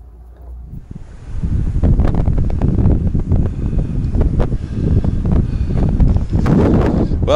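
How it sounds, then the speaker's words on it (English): Strong wind buffets the microphone at an outdoor campsite, a loud, continuous rumbling roar with gusty surges that builds after the first second and stays heavy throughout. "Well, I know it's windy."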